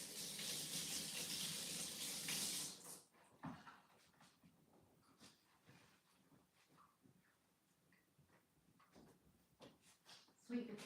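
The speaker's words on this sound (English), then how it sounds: "Let me rinse my hands real quickly." Tap water runs into a sink for a couple of seconds while hands are rinsed, a close hissing stream that cuts off, followed by faint kitchen clatter and a voice talking.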